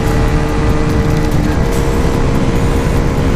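A KTM Duke 390 motorcycle engine with its rev limiter removed, held high and loud as a steady, dense roar close by, without pause throughout.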